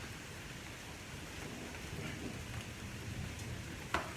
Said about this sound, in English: Or we can listen to thunder and rain and lightning and enjoy what's here while it's still here.